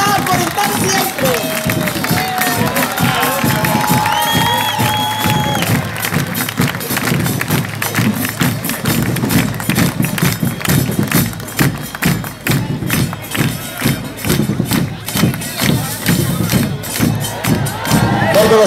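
A large crowd at a JSRN political rally in Viedma cheers, claps and stamps. The sound is loud, dense and continuous over nearly twenty seconds, with voices shouting throughout and a chanting, musical undertone.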